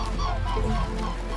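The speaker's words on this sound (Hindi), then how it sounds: "की 3 स्पीशीज में से एक म्यूट स्वान्स भी यहां यूरोप में पाए जाते हैं।" A mute swan in Europe gives loud, honking calls that run together in a continuous, nasal stretch, close and unbroken by any talk.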